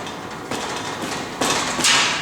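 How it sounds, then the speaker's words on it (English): An unattached main roll hoop on a Formula 1000 race car build rattles on its steel frame table, a close, harsh metallic clatter in bursts that grow louder toward the end. "The rattling you hear right there is just the main roll hoop, which is not attached yet."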